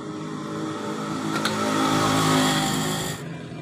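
A Honda Supra X motorcycle engine with worn bearings runs close and steadily with a rough, grinding hum that swells slightly before easing off.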